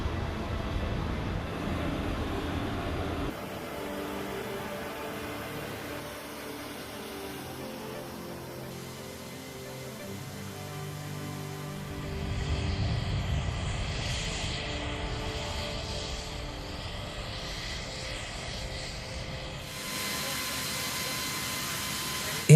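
Inside a C-17 military transport carrying paratroopers, a steady, droning engine rumble and cabin hiss fill the space, shifting in tone partway through, with music or narration layered faintly over it.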